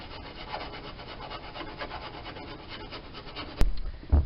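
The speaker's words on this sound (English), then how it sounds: "I've decided to use a file since this metal is so thin." A hand file rasps steadily across thin sheet metal of a Jeep YJ door, grinding it down to bare metal in repeated close strokes, ending with a couple of louder knocks.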